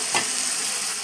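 Ginger, garlic and coriander paste being stirred into frying boiled egg slices, a quick utensil scrape over a steady close sizzle.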